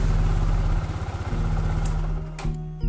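A Benelli RFS150i motorcycle engine runs at a steady idle nearby, a continuous low throbbing that briefly dips before cutting off with a click near the end.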